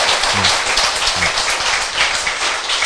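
Audience applause in a Korean lecture hall during a talk on overcoming diabetes, a dense steady patter of many hands clapping for about three seconds, fairly loud and close, with a couple of brief vocal sounds mixed in.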